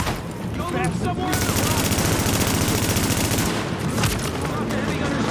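Rapid automatic gunfire rattles continuously in a firefight in the shooter game Tom Clancy's The Division, loud and close with dense bursts, and voices are heard at the start and end.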